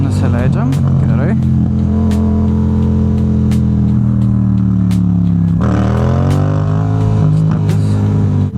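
Yamaha MT-07 motorcycle engine revving loudly and close during wheelie practice, holding steady then dropping and climbing again in pitch, with brief sharp clicks over the drone.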